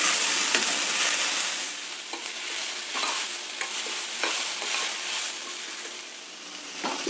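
Tomatoes sizzle steadily in a pan over a medium flame, with a close, continuous frying hiss and occasional stirring scrapes.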